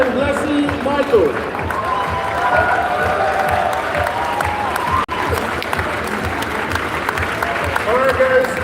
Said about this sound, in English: keep clapping guys. Keep going, keep going, keep going.